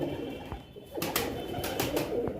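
Female pigeon cooing nearby in a loft, with soft repeated coos alongside brief rustles and background noise.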